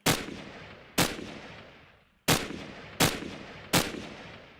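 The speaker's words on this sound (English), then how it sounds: "let's try the AK-74" Five AK-74 rifle shots from a Minecraft gun mod, each a sharp loud crack with a long fading tail, fired singly at uneven intervals about a second apart with a short pause in the middle.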